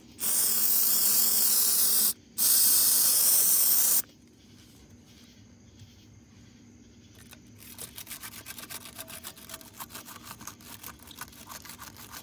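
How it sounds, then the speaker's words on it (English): Two loud hissing bursts of electronic contact cleaner sprayed onto rusted contacts in an old Porsche 944 fuse box, separated by a short pause, followed by quiet clicking and faint rattling. "we're gonna take some electronic spray and clean all these contacts here"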